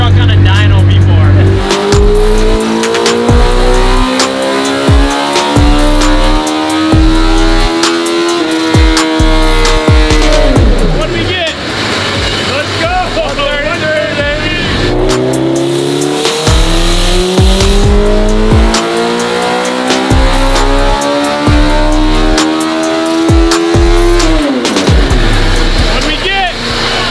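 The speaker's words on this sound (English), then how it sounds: "I don't know if anybody has ever taken a mini truck on a dyno before." A mini truck swapped with a motorcycle engine revs hard on a dyno, its high-pitched engine note climbing steadily in two long loud pulls, each ending in a sharp drop, with speech faintly present.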